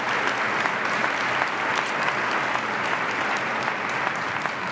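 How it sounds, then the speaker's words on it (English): Steady, dense applause from a crowd at a spring commencement ceremony, sustained evenly throughout without pause. "give them a congratulations and round of applause"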